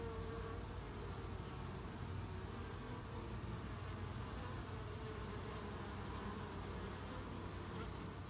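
Honeybees buzz inside an opened hive during a beekeeping inspection, a dense, continuous droning hum that stays close and steady throughout with no clear speech.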